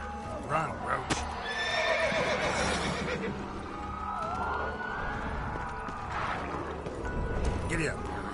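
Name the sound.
horse Roach galloping and neighing, from video game The Witcher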